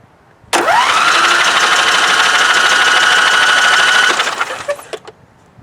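A Briggs V-Twin engine on a Craftsman YT4500 lawn tractor is cranked over by the starter, a loud steady whirring drone that spins for about three and a half seconds without firing, then cuts off and clicks fade.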